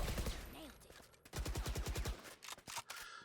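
Gunshots in the Valorant video game during a headshot kill, with sharp rapid shots in quick bursts followed by a few scattered reports, loud and close.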